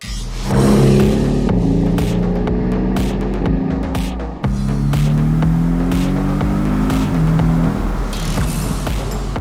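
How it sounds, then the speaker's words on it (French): Four-cylinder engine of a Porsche 718 Boxster S under way, heard from inside as a loud, throbbing drone that climbs in pitch, dips briefly at a gear change, then pulls up again, with no talking. "c'est pas comparable avec un 4 cylindres en ligne, quoi. La sonorité est vraiment différente."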